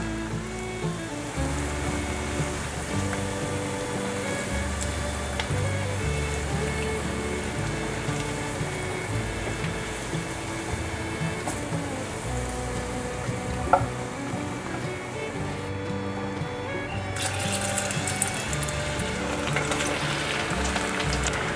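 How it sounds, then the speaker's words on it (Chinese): Vegan celery balls deep-fry in hot oil with a steady, dense sizzle and crackle that keeps going the whole time, loud and close, with faint stirring and a brief clink partway through, and nobody talking. "拨开好了，再让它继续炸。"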